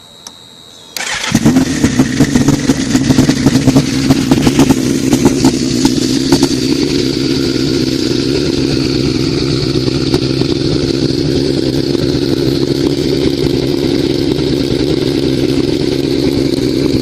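A 2006 Suzuki GSX-R1000 sportbike engine turns over and fires from a dead cold start, then settles into a loud, steady idle with repeated sharp throttle blips, close by with no talking.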